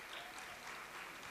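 Applause for an honourable minister at a youth pitso gathering, a dense steady wash of many hands clapping at once, fairly faint and even throughout with no talking over it.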